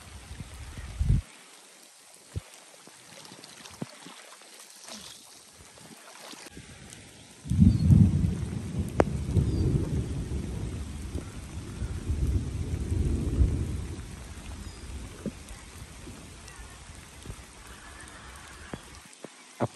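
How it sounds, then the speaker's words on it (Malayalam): Heavy rain pours steadily while thunder rumbles, a deep roll swelling loud midway and lingering for several seconds before fading back under the constant hiss of rainfall. "നല്ല മഴ വന്നു."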